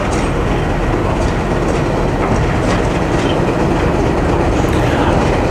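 A new diesel locomotive on a narrow-gauge railway, a loud continuous rumble with rhythmic wheel clatter, heard close and steady from start to finish.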